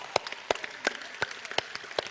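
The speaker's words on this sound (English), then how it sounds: "Give yourselves a big hand of applause, guys" Scattered clapping from a small group after a physical movement session, a few distinct claps in a loose, uneven rhythm, close and fairly light.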